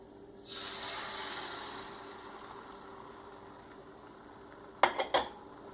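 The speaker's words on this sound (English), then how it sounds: "Now I'm going to toss in my eggs." Eggs hit a hot skillet for an omelet with a sudden sizzling hiss that bursts up and slowly fades, followed near the end by a few quick clinks of a utensil against the pan.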